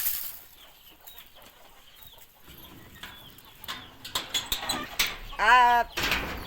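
Desi village chickens cluck in short scattered bursts nearby, ending with a louder drawn-out squawk, over a quiet outdoor background.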